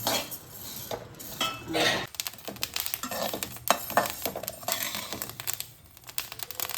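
Dried rice is dry-roasted and stirred in a pan for rice laddu, producing busy scraping and rattling of grains against metal in irregular bursts, close up with no talking.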